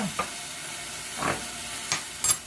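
Minced garlic sizzling in sesame oil and stirred, with a steady soft frying hiss broken by four short scraping stirs spread across the moment, close and fairly quiet with no talk.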